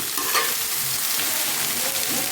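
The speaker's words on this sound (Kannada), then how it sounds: "ಈಗ ಕಾಳು ಹಾಕ್ಕೊಳ್ಳೋಣ. ಕಾಳು ಹಾಕಿ ಚೆನ್ನಾಗಿ ಮಿಕ್ಸ್ ಮಾಡೋಣ." Beans stirred into onions frying in a pan for a Kannada-style togrikal bassaru palya, giving a steady close sizzle with soft scraping from the stirring and no voices.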